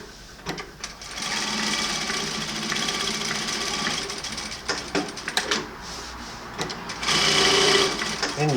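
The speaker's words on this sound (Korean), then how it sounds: "일반 재봉 패턴 누르면 다시 일반 재봉 가죠" An MS-9800KR electronic lockstitch sewing machine with automatic thread trimming runs in a close, fast mechanical whirr, pausing briefly and then stitching again while a voice talks over it.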